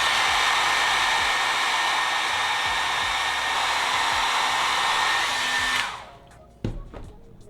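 Hair dryer blowing a cold shot onto a glued lace frontal wig, a loud steady close roar lasting several seconds before switching off abruptly, followed by a brief clunk and quiet handling.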